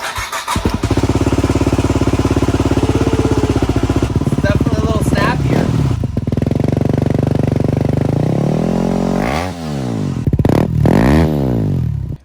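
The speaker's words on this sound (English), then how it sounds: "Now here's a sound test of what the bike sounds like with the new FMF Q4 on it." Close, loud Yamaha WR250R dirt bike with an aftermarket FMF Q4 exhaust idling with a rough, popping rhythm, then revved hard in several sharp bursts; some speech is briefly mixed in.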